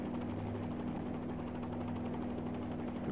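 Helicopter rotor and engine drone in a flight simulator during a hover, a steady loud hum with a strong low tone that holds unchanged throughout, with no voices.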